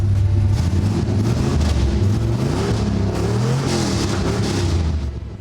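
A Chevrolet LS V8 swapped into a 1992 Camaro, carbureted, fires and revs hard, a loud, close, rough engine roar that climbs and falls in steady pulses before easing off at the end.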